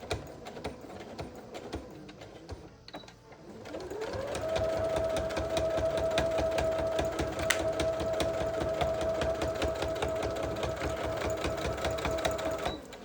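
Sewing machine stitching a vinyl bag, a few short stop-start bursts first, then a long continuous loud run of rapid even stitching close up, no one talking.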